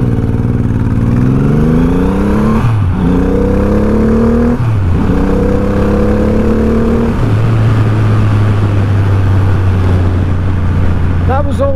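2023 Triumph Rocket 3 R motorcycle accelerating hard, its engine note climbing loud and close through several gears with brief dips at each shift, then settling into a steady cruising drone with wind noise.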